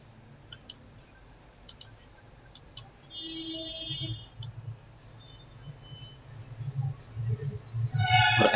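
Sharp, quiet computer mouse clicks while working in a Microsoft Excel sheet, a few isolated pairs spaced out at first, then softer clicks and faint desk noise toward the end.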